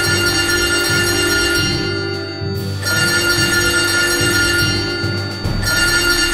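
A phone rings loud and shrill in a continuous electronic pattern with a couple of brief dips, sounding like a cartoonish bug phone, and no voices are heard.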